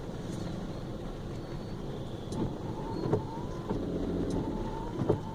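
Slow-moving traffic crawls along a rainy Bangalore road, a steady low engine and tyre rumble with occasional brief horn toots and clunks, heard from inside a vehicle without talk.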